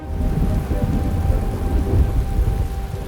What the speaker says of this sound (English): a lot of the staff out on site are reporting possible thunderstorms developing